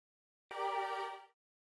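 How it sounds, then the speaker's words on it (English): A sampled female choir sings one sustained, bright vowel chord that starts abruptly and fades after under a second, alone and fairly quiet. "I found a sample that's basically a female choir"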